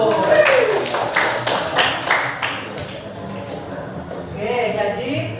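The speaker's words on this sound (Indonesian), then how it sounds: "Tepuk tangan lagi dong." A high school class of tenth-grade multimedia students claps together for a few seconds, a quick ragged round of hand claps that fades as a teacher starts talking in the room.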